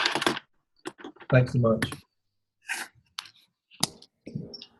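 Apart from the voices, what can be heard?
someone clicking and typing on keyboard in background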